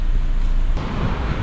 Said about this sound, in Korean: 와, 파도 엄청 센데?